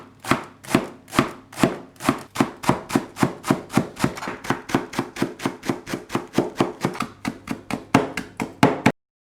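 Rapid, steady knife chops on a cutting board as garlic sprouts are cut into small pieces, dozens of crisp close strikes in an even rhythm with no talking.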